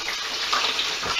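Frozen McDonald's-style French fries plunge into hot fryer oil, giving a steady, loud bubbling hiss that runs unbroken for the whole moment, with no voices.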